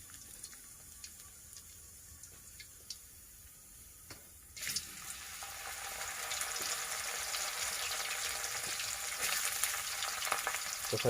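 Banana slices dropped into hot oil for chips set off a sudden burst of loud sizzling midway through, after a quieter stretch of faint crackle, and the frying stays strong and hissing close by to the end.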